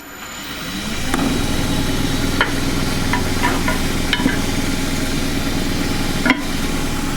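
A wood lathe spins up to a steady hum as a gouge begins shaping a bowl from gidgee, a very strong wood, with intermittent scraping ticks and cuts over the motor drone.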